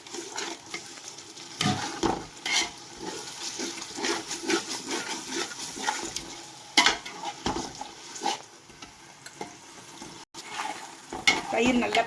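Yogurt being stirred into sizzling biryani masala for dum biryani, with a spoon scraping and clanking against the pot in irregular bursts over a steady frying hiss, close and fairly loud.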